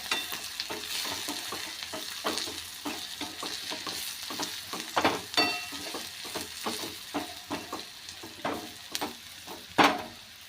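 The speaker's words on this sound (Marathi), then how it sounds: "आता परतून घेऊया" Cluster beans with red chili powder, homemade black masala and turmeric sauté in a pan, soft frying sizzle under repeated spoon scrapes and clacks in an irregular rhythm, close and fairly quiet, no talking.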